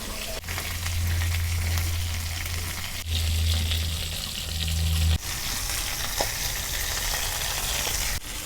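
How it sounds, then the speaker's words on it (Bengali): Pangas fish frying in oil make a loud, continuous crackling sizzle, interrupted by a couple of abrupt cuts, with a low tonal hum in the first half and no voices. "ইমরা আমার মাছ ভাজা হইতে থাক"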